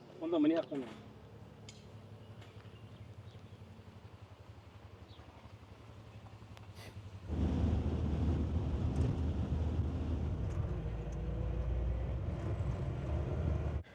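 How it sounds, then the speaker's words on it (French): Steady wind buffets the microphone near the singing sand dunes outside Almaty, rising to a louder, rougher roar partway through and continuing without letup. "il y a un peu de vent"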